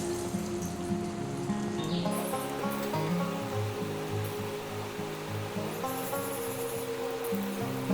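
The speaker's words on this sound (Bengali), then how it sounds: "তেল গরম হয়ে গেছে এবার আমি এটা ছোট ছোট করে ভেজে নেব" Pieces of banana flower fry in hot mustard oil with a steady, rain-like crackle that runs throughout, mixed with a tonal musical background.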